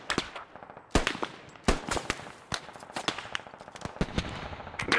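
Rapid bursts of machine gun fire in the military shooter game Squad, loud and close, with sharp repeated shots in uneven strings and short pauses between volleys.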